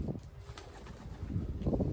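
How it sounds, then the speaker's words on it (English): Pigeons in a derelict building, soft low cooing with brief wing flutters nearby, steady and unhurried with no voices. "Pigeons knocking about."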